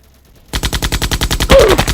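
Rapid machine-gun fire from the Roblox Naval Warfare game, a loud, evenly spaced burst of about a dozen shots starting abruptly after a brief near-silence and continuing to the end.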